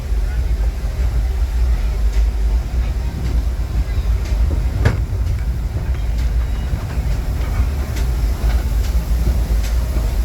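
A Disneyland Railroad train rumbles steadily along the rails with a constant low drone and faint clacks, while a voice talks over the noise.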